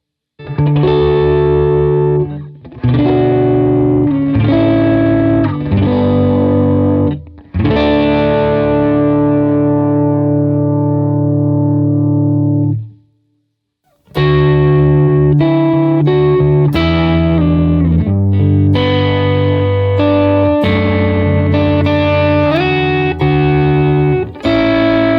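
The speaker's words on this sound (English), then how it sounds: "And so now let me turn on the compressor." Electric guitar through a Case Study Studio Compressor pedal, with a compressed, sustained tone playing chords and single notes, a short pause near the middle and no talking.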